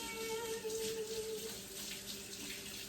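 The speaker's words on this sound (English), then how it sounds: "I'm going to wash my hands again." Running water from a kitchen sink tap as hands are washed, a steady broadband splash that stays loud and close throughout with no talking.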